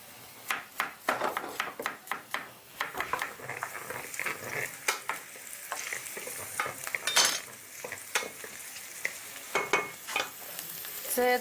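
Oil sizzles steadily in a frying pan while a utensil stirs and scrapes against the metal in quick, irregular strokes, close and fairly loud with no talking.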